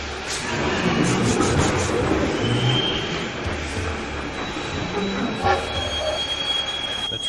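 A train reversing in the Lionel Trans Con video game: a continuous loud rumble of rolling rail cars with high wheel squeals and metallic screeches over the whole stretch, no talking.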